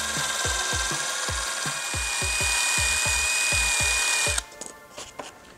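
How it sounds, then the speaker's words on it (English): A power drill whirs steadily while a spinner trims and smooths foam, giving a rapid rhythmic scuffing, then the motor cuts off and fades. "You just put them in a little drill and you can just trim off any lumps and bumps"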